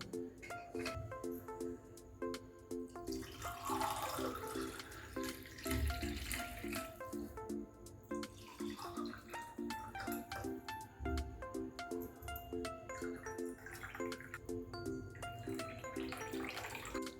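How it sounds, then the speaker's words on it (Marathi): Thandai, a spiced milk drink with almonds and cashews, is poured into a glass, giving a faint, soft liquid trickle and splash over a low, steady background. "चांगलं मिक्स करून घेऊया ग्लासमध्ये ओतून घेऊया"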